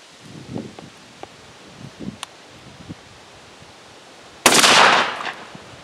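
Weatherby SA-08 semi-automatic shotgun firing a single shot at a target board, one sharp, loud blast near the end with a brief decaying tail, preceded by quiet rustling and faint handling noises.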